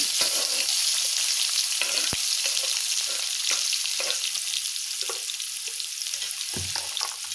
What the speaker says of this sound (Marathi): मी दोन कांदे बारीक चिरून घेतले आहेत आता ते त्यामध्ये घालते